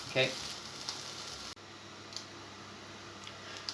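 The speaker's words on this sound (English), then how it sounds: "the tempeh and the pepper has been frying for about 10 minutes now" Soft, steady sizzling of tempeh and pepper frying in a pan, with a brief clink near the start and a faint tick or two later.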